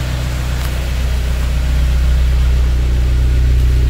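Turbocharged Subaru BRZ idling at the exhaust, a steady, deep low rumble with constant even pulsing, close and fairly loud, no talking.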